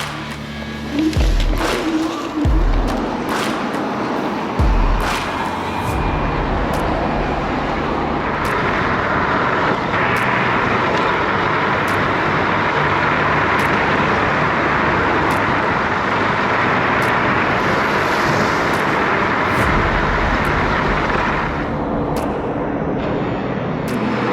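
A dual-motor electric scooter climbs a hill on city streets, making a steady loud whine and rushing wind roar throughout, with occasional clicks and a few louder bumps near the start.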